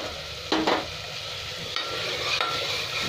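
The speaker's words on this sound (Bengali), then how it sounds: "টমেটোটা ভালো করে ভেজে নেবো।" Tomatoes frying with spices in oil in a pan give a steady, close sizzle, broken by a few brief louder bursts of stirring.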